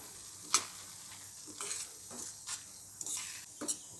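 Vallarai keerai kootu stirred in a pot with the stove off, giving quiet, intermittent scraping and clinking strokes of a spoon against the metal, close and faint, with no talking.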